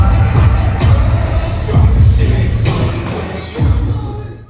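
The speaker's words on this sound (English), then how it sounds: "the crowd was super hyped for JCW on night two" Dense crowd noise at a Juggalo Weekend wrestling show for JCW, loud and sustained with swelling cheers and a few sharp bangs, ending in a fresh surge.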